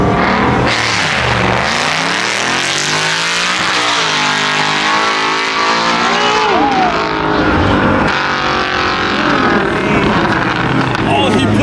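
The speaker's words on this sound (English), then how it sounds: "Two of the most expensive cars here running against each other." A Corvette Z06 and a Genesis G80 race side by side, engines loud and close, revving hard and rising in pitch through the gears, with people talking over the roar.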